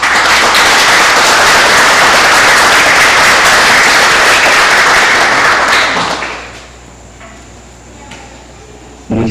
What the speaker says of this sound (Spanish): pido un cordial aplauso para darle la bienvenida a esta gente